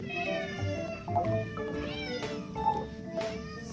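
Several cats meow repeatedly, close and clear, with drawn-out yowling cries overlapping across the span over a low room background.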